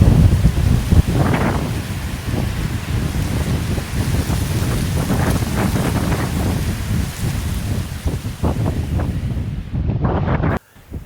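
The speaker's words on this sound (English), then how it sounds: "The wind is howling at us here" Gusty wind roars and buffets the microphone high on a mountain trail in incessant rain, a loud, continuous rushing that swells and eases before cutting off abruptly near the end.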